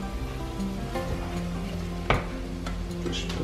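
A vegan mixture with four Knorr cubes being stirred in a pan, a continuous low sizzle with scraping and soft knocks of the spoon and one sharper clack near the middle, no voices.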